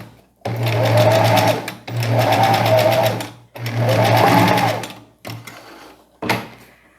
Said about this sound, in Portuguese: E passo a costura aqui, ó, de uma pontinha a outra.